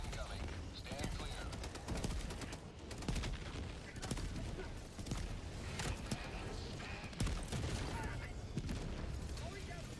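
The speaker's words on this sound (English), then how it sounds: "Orbital barrage incoming." Orbital barrage strike in the video game Helldivers 2, heavy overlapping booms and gunfire-like blasts rolling continuously at full loudness, with voices partly audible underneath.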